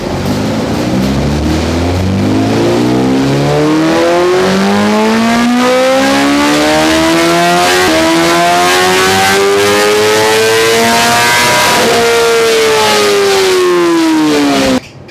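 A BMW S1000RR motorcycle with a full Akrapovic titanium exhaust makes a dyno power run, its engine sweeping steadily upward in a loud, continuous rising howl that holds to the top before cutting off abruptly.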